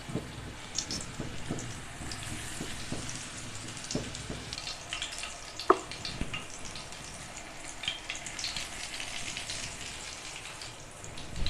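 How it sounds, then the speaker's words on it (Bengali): A coated chicken burger patty frying in hot oil over low heat, giving a quiet, even crackle with scattered pops and one sharper snap midway, no voices. "কোট করে নিয়ে সরাসরি আমি তেলে ফ্রাই করে নিব।"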